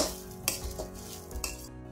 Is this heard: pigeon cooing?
no